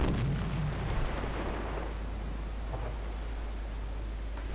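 Submarine deck gun fire at a ship in Silent Hunter IV: a strong broadband boom at the start decays into a long rumbling roar, with faint later reports trailing off.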